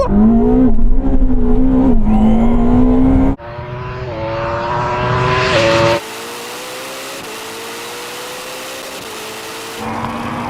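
A Ferrari SF90 and a Yamaha R1M motorbike launch side by side in a drag race, loud engine tones climbing through gears with abrupt shifts, then fading into a distant drone, with no talking.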